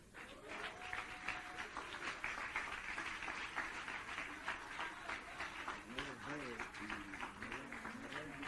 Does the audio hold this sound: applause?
yes